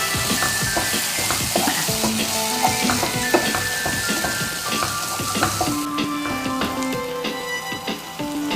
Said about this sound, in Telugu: ఇప్పుడు మనం ఈ గ్రేవీ వేసేద్దాం. కొంచెం నూనెలో వేగనిద్దామండి.